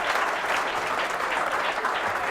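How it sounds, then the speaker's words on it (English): A comedy club audience at a live comedy magic show in Huddersfield breaks into a tremendous round of applause, thick and steady clapping from a full room at even loudness. "If it is the Ace of Spades, give Phil a tremendous round of applause"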